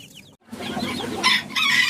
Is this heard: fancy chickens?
yes